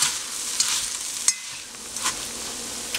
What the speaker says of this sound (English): we're going to use a masher and just mash a little bit of the beans up